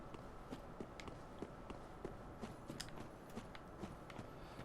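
Footsteps of a character in Dark Souls 3 crossing a snowy area, a steady run of soft, quiet steps over a continuous hiss of background game ambience.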